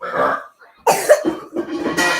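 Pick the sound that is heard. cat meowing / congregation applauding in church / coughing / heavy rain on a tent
coughing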